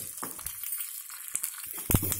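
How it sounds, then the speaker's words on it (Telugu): A tempering of urad dal, cumin, mustard seeds, dried red chillies, green chillies and curry leaves in hot oil gives off sporadic, close crackles and short sizzling bursts, with a louder pop near the end. "పోపు వేద్దాము, వేగుతుంది."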